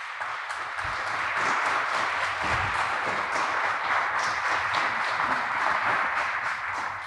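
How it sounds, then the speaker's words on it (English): Steady applause from an audience at a peace and justice center fundraiser award ceremony, a continuous even wash of clapping hands holding at the same level throughout without a clear peak. "If you'd join me in giving those folks a round of applause,"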